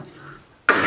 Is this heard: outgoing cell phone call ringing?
no